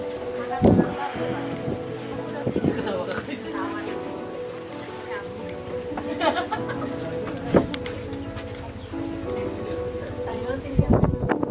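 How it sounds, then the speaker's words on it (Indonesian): Heavy rain pours steadily during a trek to the mountain village of Waerebo, a dense constant wash of drops with a few louder bursts, while people talk underneath. "Hujan turun semakin deras."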